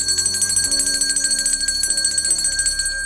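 A bell rings in a quick, steady, bright repeated pattern, loud and close, with no talk over it.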